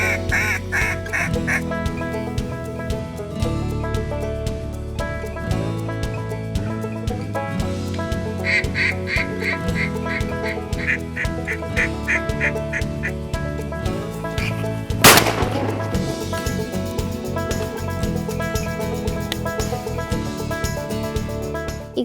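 Mallard ducks quack in loud, repeated bursts during a flooded timber duck hunt, layered with calling and dense flock chatter, with a sharp shotgun blast cutting through midway before the quacking carries on.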